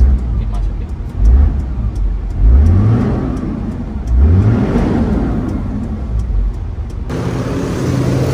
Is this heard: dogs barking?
no